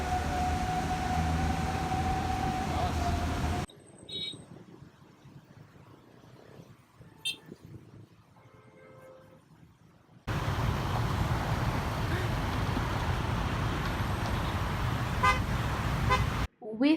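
Dense road traffic in Jakarta beside an MRT construction zone, a loud steady roar with car horns tooting, broken by a quieter stretch of sparse sounds in the middle before the traffic noise returns.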